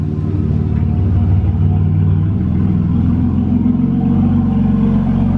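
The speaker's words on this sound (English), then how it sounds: "let's go ahead and get the car inside the garage" A BMW E92 idles and rolls slowly into a garage, its engine a loud, steady low rumble close by with a slight rise in pitch partway through, heard alone without voices.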